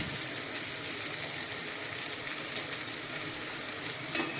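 Sabudana is stir-fried with potatoes in hot oil for Maharashtrian sabudana khichdi, giving a steady, close sizzle with no talk and a brief clink of a utensil near the end.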